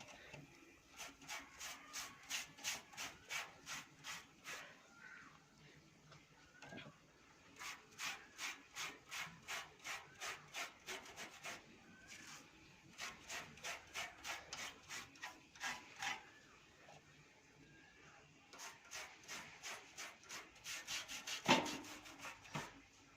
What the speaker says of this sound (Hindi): जालियों में भी हल्का हल्का आपने ब्रश की मदद से इसको साफ़ करना है जी।